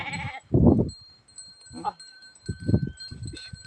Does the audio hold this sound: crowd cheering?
no